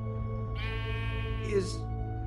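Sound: sheep bleating in video game Minecraft Story Mode

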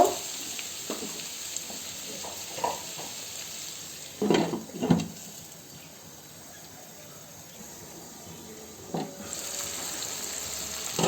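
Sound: stirring and frying pumpkin with cumin in a pan

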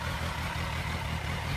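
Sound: Kawasaki Versys 1000 motorcycle engine and exhaust idling

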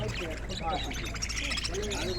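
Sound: birds at a bird market

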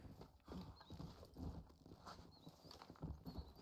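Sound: horse hooves in video game Red Dead Redemption

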